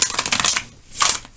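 A deck of tarot cards is shuffled close up, giving a quick fluttering riffle of papery flicks, a short pause, then a second brief burst, with no talking.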